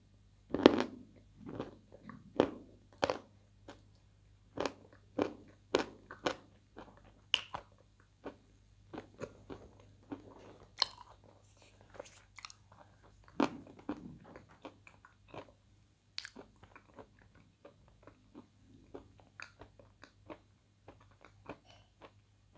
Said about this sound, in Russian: Попробуем еще бы откусить.